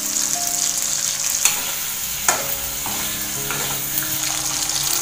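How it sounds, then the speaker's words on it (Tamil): Steady crackling sizzle of dried fish frying in hot oil, with a few sharp pops and clinks of a utensil against the pan. "அதை போட்டு நல்லா நம்ம ஃப்ரை பண்ணி எடுத்துக்கணும்."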